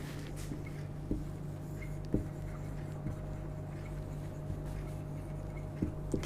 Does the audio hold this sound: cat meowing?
no